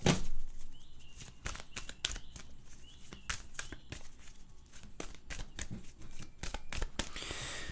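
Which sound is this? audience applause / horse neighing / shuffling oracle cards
shuffling oracle cards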